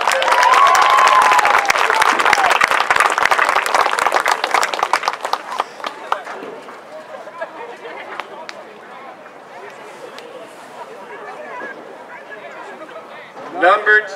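Applause and cheering from a crowd honoring a senior girls soccer player at a high school senior night ceremony. The clapping is dense and loud at first, then thins into scattered claps and chatter, with a brief burst near the end.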